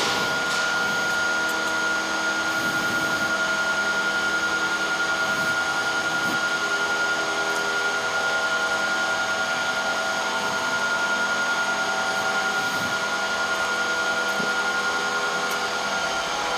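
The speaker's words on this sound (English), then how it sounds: "And now Jan-Åke will switch on the rectifiers, which provide power to control the voltage" Rectifiers and a big motor power up at the Grimeton longwave radio transmitter, giving a loud, constant electrical hum made of several steady tones with a faint whir, mostly alone with occasional small clicks.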